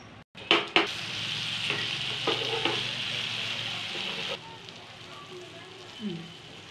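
A Madurai-style kari (meat) dosa sizzles loudly on a hot pan, with a few sharp clanks near the start. A bright, continuous hiss stays strong for several seconds, then drops abruptly to a quieter crackle.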